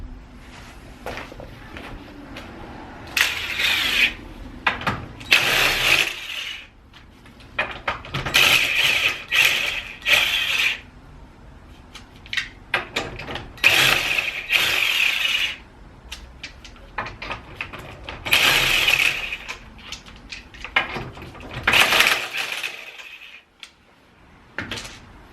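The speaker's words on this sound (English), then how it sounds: "I'll whip this wheel off, so driver side wheel" Tools working on the driver side wheel of a car with coilover suspension: bursts of metallic ratcheting and clicking come and go in short runs, close by, with quiet gaps in between and no talk.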